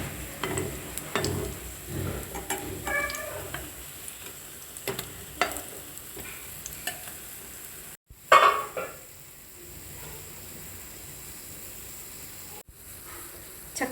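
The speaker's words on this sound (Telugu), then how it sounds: "ఇక్కడ జస్ట్ లైట్గా ఆయిల్తో రోస్ట్ చేసుకుంటున్నాం మనము" Masala vadas roasting in a pan with a little oil give a soft, steady sizzle under occasional clinks of a utensil against the pan, with a sharper scrape partway through; close and fairly quiet, no voices.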